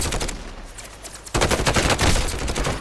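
Rapid gunfire in Call of Duty: Modern Warfare, with bursts of shots cracking in quick succession, quieter at first and then louder and denser after a sharp jump partway through.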